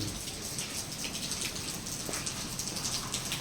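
Steady rain falls at night in Aceh, a dense even patter of drops hitting surfaces with a continuous hiss, fairly close and moderately loud, no voices.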